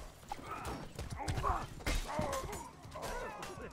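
Horse hooves clopping in the medieval combat video game Mordhau, a quick run of irregular clip-clop beats close by amid the chaotic clatter of a battle, with some voice activity mixed in.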